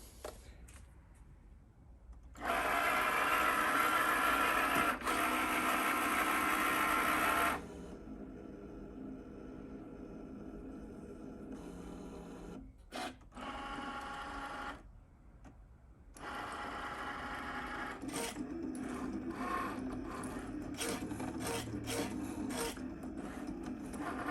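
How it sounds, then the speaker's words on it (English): A Cricut Maker runs its rotary blade through fabric for an embroidery appliqué piece, giving a loud, steady rasping whir for several seconds that then drops to a quieter mechanical hum with short pauses and resumed grinding passes. "Comes with this rotary blade that's used to cut fabric."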